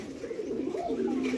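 Lakhan hen and Sirazi cock pigeons at a bird market stall coo in a steady, close, continuous low murmur, with faint background noise around them.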